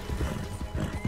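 Horses in Red Dead Online breaking into a run, hooves clip-clopping in quick uneven beats with a brief whinny, fairly close, alone without talk.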